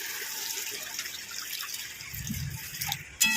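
Water poured into frying pabda fish curry with dhania, where the oil has separated, giving a steady trickling, sizzling pour close by with no voices.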